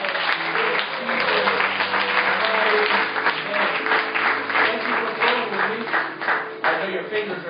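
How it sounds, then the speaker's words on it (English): Church congregation clapping steadily and loudly throughout, a dense sustained applause with scattered voices and cheers mixed in beneath it. "Come on, somebody clap and thank you."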